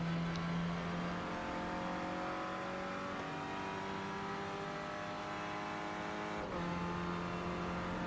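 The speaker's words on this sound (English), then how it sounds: "That sounded like a pretty laid upshift if you ask me." Clio Cup race car in a racing video game at Brands Hatch, its engine droning loud and steady with a clear upshift near the end as the pitch drops and climbs again.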